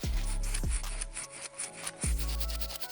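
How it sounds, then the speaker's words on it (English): A medium bristle brush scrubs the leather stitching of an Air Jordan 13 sneaker, giving close, rough rubbing strokes in a few repeated passes. "Once again, I'm gonna scrub in a circular motion till I see it back to white."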